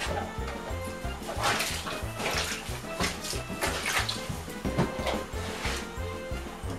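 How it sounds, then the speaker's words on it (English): Murky bath water from a pet's bath being poured out, a continuous splashing gush with bursts of pouring and rhythmic low thumps underneath. "I'm going to pour the water out. As you can see, all the murky water is flowing out."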